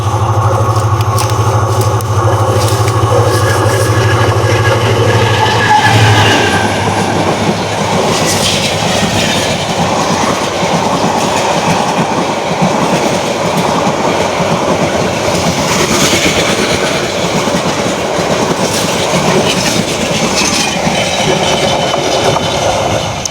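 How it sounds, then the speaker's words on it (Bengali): A train passes close by on a railway track in the Narsingdi–Gazipur area of Bangladesh, a loud continuous rumble with clattering wheels that holds steady through the clip, with no talking. "এই যে ট্রেন চলে আসছে।"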